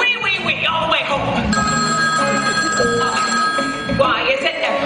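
A telephone bell rings steadily through the middle of a scene from the Broadway cast recording of the musical Hairspray, set against busy music and background sound.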